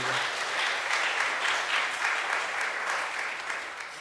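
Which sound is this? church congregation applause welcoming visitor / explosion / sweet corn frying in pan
church congregation applause welcoming visitor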